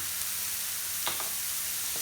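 Seasoned meat with onions, cayenne pepper, garlic and ginger frying over medium heat in a pan for Chinese fried rice, giving a steady low sizzle throughout with a couple of brief clinks or stirring knocks midway.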